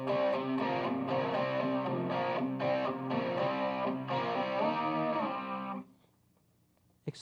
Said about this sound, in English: What if I used a chorus and a distortion?